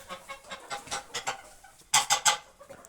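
A hen on a farm clucks close by in a quick rhythmic series of short, sharp notes, louder toward the end, with no people talking.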